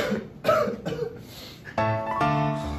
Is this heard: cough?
yes